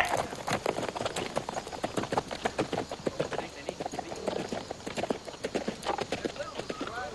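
Horse hooves clip-clop in a quick, steady rhythm close by, with voices talking over them.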